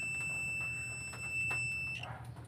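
A steady high-pitched electronic beep from a car booster cable's warning buzzer sounds continuously, then cuts off, with a faint low hum underneath.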